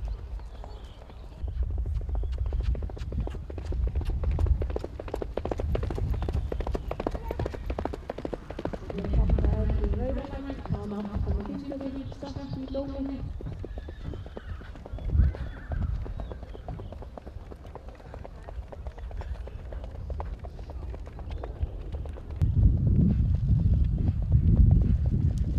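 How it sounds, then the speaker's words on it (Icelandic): Hooves clip-clop steadily as horses trot past at an Icelandic horse show, a continuous rhythmic beat of footfalls with occasional louder passes and a faint neigh, under an Icelandic announcer's commentary. "Þetta fullt með hestar."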